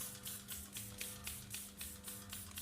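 Water from a spray bottle is misted along the bottom edge of a car door window, a very faint run of quick rhythmic hissing squirts, about a dozen pumps in steady succession.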